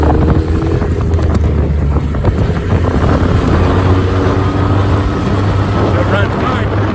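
A faulty dinghy outboard engine is running and idling outdoors, making a loud, continuous low drone and rumble that is mixed with heavy wind buffeting on the microphone.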